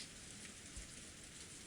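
Steady rain falls in the visual novel game Umineko no Naku Koro ni, a continuous quiet hiss of drops with no other sounds.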